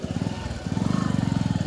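A motorcycle putters across a narrow suspension bridge, its engine a steady, close, rhythmic low thrum that dips briefly and then picks up again.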